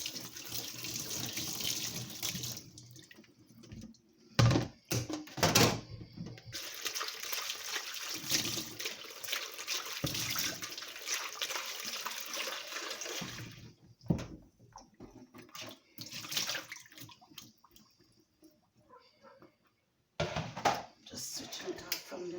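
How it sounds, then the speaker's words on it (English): Blended mango, apple, passion fruit and pear juice strained off, a running liquid pour and splash that comes and goes in bursts with pauses and clatter, heard alone without talk. "So I'm about to strain my juice."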